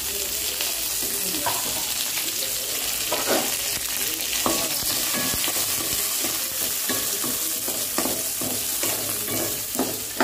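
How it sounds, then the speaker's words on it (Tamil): Coconut, dried red chillies, garlic and curry leaves frying in oil for a radish chutney, a steady close sizzle with repeated spoon scrapes and clinks against the pan throughout. "தேங்காய், காஞ்ச மிளகா கொஞ்சம் எண்ணெயில் போட்டு கொஞ்சம் ஃப்ரை பண்ணணும்"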